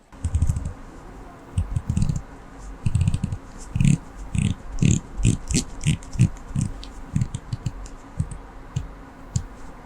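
The bidirectional GMT bezel of a Grand Seiko SBGE275 watch is turned, giving a close series of small, crisp clicks in quick uneven clusters that slow and soften toward the end.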